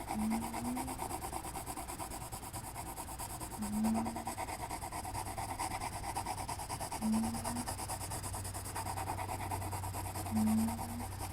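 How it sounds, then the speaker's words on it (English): Quiet, low snoring repeats every few seconds, soft rasping breaths over a steady background hum. "My cat is snoring."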